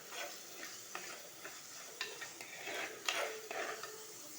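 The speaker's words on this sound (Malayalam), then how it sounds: "ഒന്ന് നന്നായിട്ട് വഴറ്റി കൊടുക്കാം ഒന്ന് ബ്രൗൺ നിറവാകുന്നത് വരെ ഒന്ന് ഇളക്കി കൊടുക്കാം" Green chillies sauté in a pan for a fish curry, stirred steadily with a soft sizzle and repeated light scrapes and clinks of the spoon against the pan, fairly quiet and close, with no talking.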